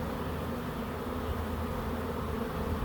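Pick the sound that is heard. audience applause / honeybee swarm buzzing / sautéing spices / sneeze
honeybee swarm buzzing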